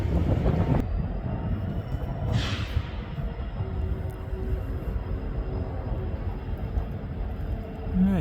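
A CN freight train on its southbound approach at Ladysmith, a steady low rumble building under wind buffeting on the microphone, with a brief hiss partway through and no talking.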